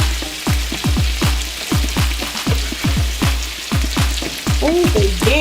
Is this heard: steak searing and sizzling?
yes